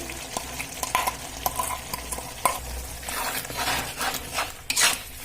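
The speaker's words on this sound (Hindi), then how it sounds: "इनमें मसाला देखिए भुना रहा है।" Spices frying and being stirred in a pan for jackfruit kofta, a steady sizzle broken by repeated scrapes and clinks of a spoon against the metal, fairly close, with no one talking.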